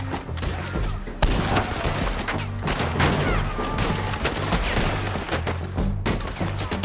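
Rapid gunfire from a Red Dead Redemption 2 shootout during a bounty hunting mission, dense overlapping shots and volleys that go on without a break, loud and close, with a few shouted voices mixed in.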